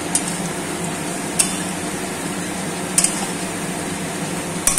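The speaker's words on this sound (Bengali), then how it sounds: "আর এখানে এটা কিছুটা ভাজছি বড়া" Chhana fritters frying in hot oil until deep red, giving a steady, even sizzle throughout, with a few sharp metallic clinks from the pan or utensil.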